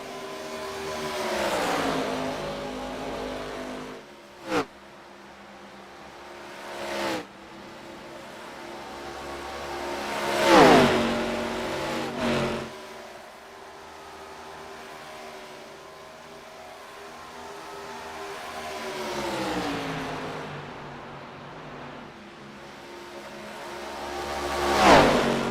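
Race car engines in a sim racing game at Charlotte, with several cars droning and whining at high revs, pitch swelling and falling as they pass, punctuated by brief sharper bursts, the sound continuous and fairly loud throughout.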